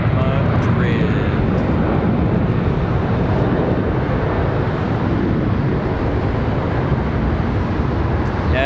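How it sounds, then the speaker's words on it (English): American Airlines Boeing 777 jet bound for Madrid at Charlotte Douglas airport, a steady loud broadband roar of engines holding for the full stretch, with a voice talking over it. "This one off to Madrid. American 748. This 777. Gonna head to Madrid."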